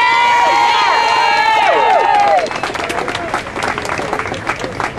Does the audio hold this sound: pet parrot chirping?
no